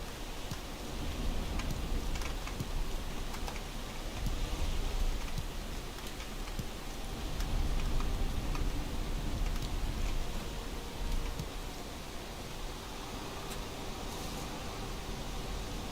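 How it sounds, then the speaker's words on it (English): Steady rain pours down in the survival game Valheim, a dense broadband hiss that fills the scene at an even level with faint ticking patter and no talk. "Oh, I woke up and it's raining?"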